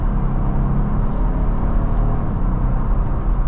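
A 2022 Jeep Wrangler with a naturally aspirated 3.6-litre V6 and 8-speed automatic drives along, giving a steady low engine and road rumble from inside the cabin, constant and fairly loud.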